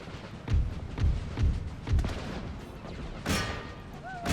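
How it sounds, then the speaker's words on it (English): Swiss troops fire musket volleys in Empire: Total War, with a series of dull booming shots spaced about half a second apart, then a rolling crackle of fire and a brighter burst near the end, heard at mid-distance. "And then the Swiss troops right behind will open fire"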